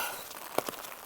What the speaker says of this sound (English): it just started to rain a little bit harder now. It's kind of a steady rain.